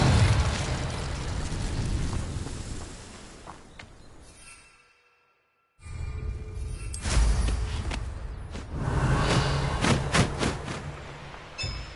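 An Incendio fire spell bursts out in Hogwarts Legacy with a broad, loud whooshing blast that fades to near silence, then further eruptive fiery bursts and thumps follow alone.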